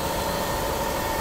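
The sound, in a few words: engine restarted during coolant flushing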